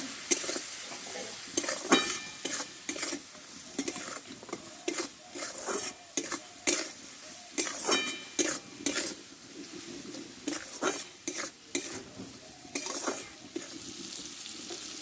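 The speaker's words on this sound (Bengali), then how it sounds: "একটু জল দেবো মশলাটা ভালোভাবে একটু কষে নেবো" Spiced masala of cumin powder, turmeric and a splash of water being sautéed in a pan for an okra curry: a steady frying sizzle broken by repeated scraping stirs in an uneven rhythm, close and moderately loud.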